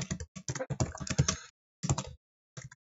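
Rapid computer keyboard typing while code is written for a game engine prototype: dense clusters of key clicks for about a second and a half, then two shorter bursts after pauses. It sounds close and clear, with no voice.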